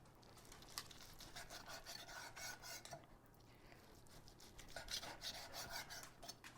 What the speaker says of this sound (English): Now I'm going to slice it and plate it up.